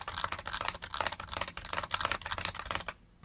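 Typing on an Emarth EM-601 budget gaming keyboard with mechanical-feel keys, a loud, close, fast run of clattering keystrokes that stops abruptly near the end, with no talking.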